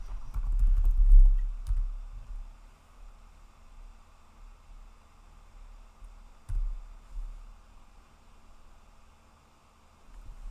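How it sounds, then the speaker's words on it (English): Someone types on a computer keyboard in a quiet room, a soft, uneven run of clicks over low background hum, busier at the start and with one louder tap midway. "just type in the name of the category that you want to add"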